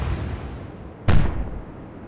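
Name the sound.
warship guns firing in video game Atlantic Fleet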